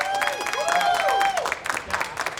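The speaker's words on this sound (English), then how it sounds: "can we get a round of applause" A crowd at a LAN gaming tournament final claps for the winner with scattered, fairly close applause. Voices and a sustained tone sit over the clapping.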